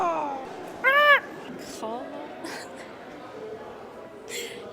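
A person vocally imitates a raptor's call: one loud, shrill, screeching cry lasting about a second, followed by quieter throaty vocal noises and brief breathy bursts.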